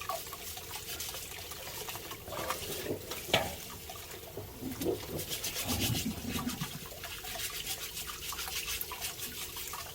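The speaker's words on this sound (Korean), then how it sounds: "흙덩이들 이런 거 흐르는 물에 대고 솔로 깨끗이 씻어줘야 됩니다" Soil is scrubbed off greenbrier roots with a brush under a running tap. Irregular scraping strokes sit close over the steady flow of water, with occasional louder knocks and splashes.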